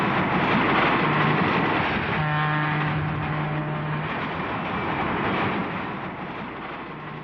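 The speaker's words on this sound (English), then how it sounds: "This northbound train is number 104, the Atlantic Coast Line's East Coast Champion" A northbound Atlantic Coast Line diesel passenger train, the East Coast Champion, rumbles past with a broad, loud roar, and a sustained two-tone horn blast sounds near the middle before the noise slowly fades.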